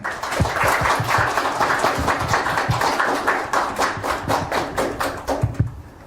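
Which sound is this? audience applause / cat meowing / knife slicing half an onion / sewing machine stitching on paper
audience applause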